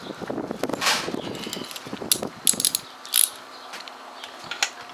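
A socket wrench with a five-eighths socket ratchets while tightening the spark plug on a Bolens BL110 string trimmer, giving short clicking runs and metallic taps at close range with no talk.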